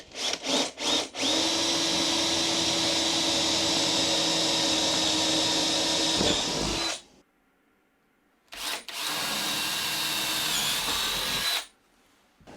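A power drill bores 10mm holes while a mobile base for a workshop machine is fitted, giving a loud, steady grinding whir. A few short starts come first, then a long continuous run, a pause, and a second shorter run.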